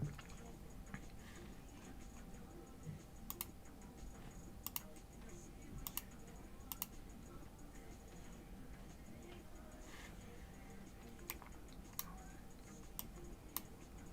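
Quiet, steady typing on a computer keyboard, soft irregular key taps with occasional sharper clicks over low room hum, no voices.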